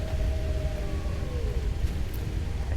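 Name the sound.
wolves howling in the video game Skyrim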